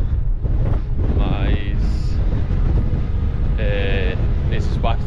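Strong wind buffets outdoors in a restricted national park preservation area, a constant loud rumbling roar across the whole stretch, with a voice speaking over it.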